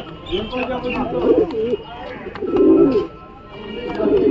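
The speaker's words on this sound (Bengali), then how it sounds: "দেখুন ভিউয়ার্স কত সুন্দর পায়রাগুলো" Fancy pigeons coo in soft, repeated throaty bursts close by at the Galiff Street pigeon market in Kolkata, with a person talking over them.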